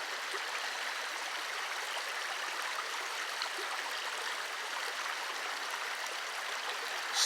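Calm river water flowing through El Yunque rainforest, a steady soft broadband rush of the stream with no other sounds standing out.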